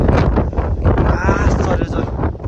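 Wind gusting across a high mountain trail on the way to Hidden Lake below the South Annapurna glacier, a steady loud rush buffeting the microphone under a person's talk.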